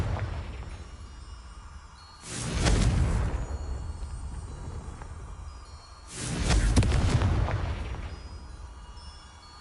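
Two booming Confringo fire-spell explosions from Hogwarts Legacy go off about four seconds apart, each a loud, broad blast that swells and then rumbles away slowly.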